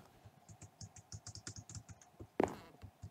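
Rapid, steady keyboard typing on a computer keyboard while playing Minecraft, keys pressed repeatedly as if to trigger sticky keys, ending in a louder clack near the end; close and clear with no talking.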